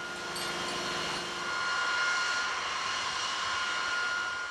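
Engines of a B-52 Stratofortress bomber give a continuous, loud, even jet roar with a steady high whine, holding without a break from start to finish.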